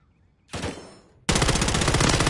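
A submachine gun fires in a Call of Duty match: a short rattling burst, a brief pause, then a loud sustained stream of rapid automatic shots at close range.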